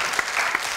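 A studio audience on a TV show applauds a mugham competition runner-up, a brief burst of many hands clapping steadily and fairly loud.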